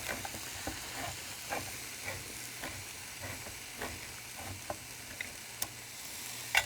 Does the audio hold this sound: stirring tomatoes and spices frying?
yes